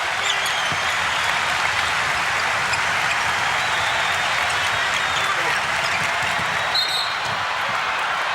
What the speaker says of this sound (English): the crowd starts to hoot and holler in Orlando